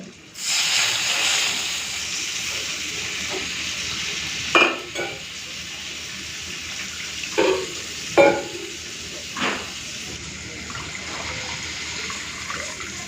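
Water poured into hot oil with turmeric and Kashmiri chili powder while cooking a fish curry sets off a loud, steady sizzling hiss, with a few short bursts of stirring clatter over it.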